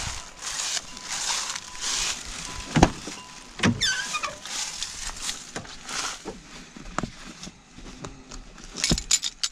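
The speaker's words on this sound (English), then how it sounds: "Found the keys." Car keys jangling while someone retrieves them from an old truck left sitting in the cold, brief metallic jingles near the mic among clunks and handling noise.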